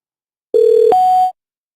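Two telephone keypad tones sound in quick succession, a lower steady beep followed immediately by a higher one, loud and clean against silence.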